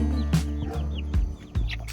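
A barred rock hen clucking close by, a few short throaty clucks and calls spaced over about two seconds.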